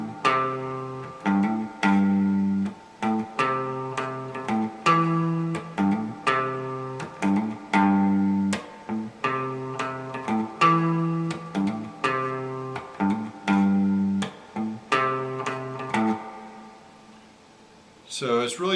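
Electric guitar plays a song's riff in C, a quick G-to-A pickup on the low sixth string leading into each chord, repeating steadily and clearly for about eighteen seconds before ringing out.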